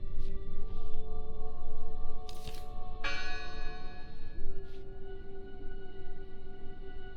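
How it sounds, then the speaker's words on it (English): A church bell ringing in the video game Draugen, heard as sustained resonant tones layered under continuous ambient noise, with a few brief sharp clanks scattered through. "Listen! The bell! They're still in there!"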